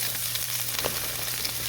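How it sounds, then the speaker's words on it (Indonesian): Chopped garlic, chili and tomato stir-fry in hot oil in a wok, giving a steady close sizzle with small crackles and a light scrape of stirring under a low hum. "Lalu tumis sampai harum."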